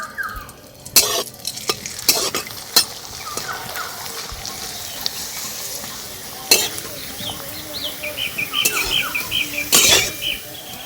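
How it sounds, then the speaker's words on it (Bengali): Thin potato papads deep-fry in hot oil, a close bubbling sizzle with sharp clinks of a utensil against the pan, scattered taps, and faint chirping in the background. "তেলটা গরম করে নিয়েছি, এবার পাঁপড়গুলো ভেজে নেব।"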